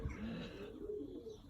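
Pigeons in a crowded, dirty aviary housing about forty birds give low, soft cooing that rolls continuously through the short stretch, a steady murmur of several birds close by with no talk.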